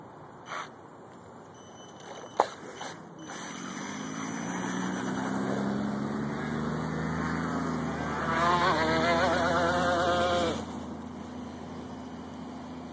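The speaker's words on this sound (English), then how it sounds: "So this will be the first run with the brush motor." A homemade outrigger RC boat with a brush motor whines as it runs, rising to a sustained buzzing drone that climbs in pitch and then cuts off, heard at middle distance after a few clicks.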